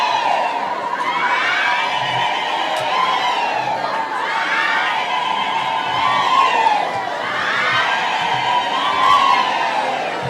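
A large crowd at a public event cheers for the deputy president in sustained waves of shouting voices that rise and fall, fairly loud and continuous.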